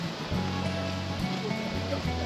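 Water flows steadily down through a gate on a public canal in rural Korea, a continuous low rushing and churning, fairly quiet and unbroken.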